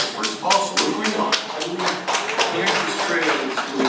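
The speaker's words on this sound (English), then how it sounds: "Please hold your applause or comments." Applause from the audience at a town advisory board meeting, a burst of many hands clapping at close range that continues steadily throughout without letting up.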